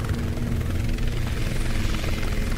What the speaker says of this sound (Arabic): خلي بالك في هليكوبتر.